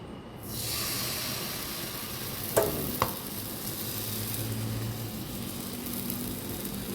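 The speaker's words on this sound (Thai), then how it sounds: "พี่เอาแป้งที่เราผสมเมื่อกี้เทลงไป" Batter for crispy oyster omelette hisses and sizzles steadily in a hot pan over low heat, a continuous frying crackle with a couple of brief clinks partway through.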